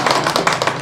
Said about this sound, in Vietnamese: Vỗ tay cô bác ơi, hay quá.